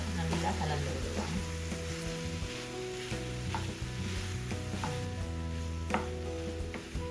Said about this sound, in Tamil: இப்போ இந்த குடலை நாங்கள் நல்லா இந்த வெங்காய கலவையோட நல்லா கலந்து விடுவோம்